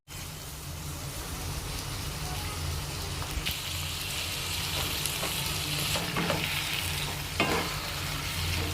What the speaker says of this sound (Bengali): এবার মা ভালোভাবে মশলাটা কষিয়ে নেবে।